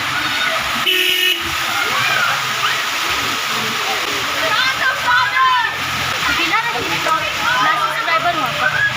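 Continuous splashing and sloshing of rainwater in a flooded street where children are playing, with a car horn and voices in the background.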